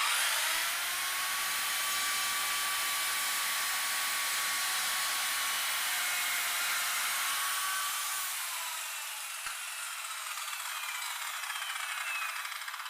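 A handheld circular saw with a laser guide cuts through a board in a loud, continuous high whine. The tone shifts as the blade clears the cut, then the motor winds down near the end, with no voices.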